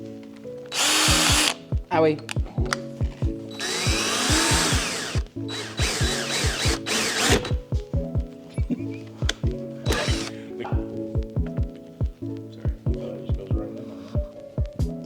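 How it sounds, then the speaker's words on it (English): Power drill running in repeated short bursts with a half-inch bit, whirring and stopping in rhythmic pulses with longer grinding spells, while a person briefly speaks. "Use the biggest drill bit you have."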